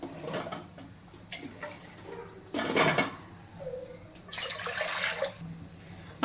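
Water is poured into a pressure cooker on a kitchen stove while making dhokla, with splashing bursts, a metallic clatter and brief knocks of the pot, fairly close and without talk.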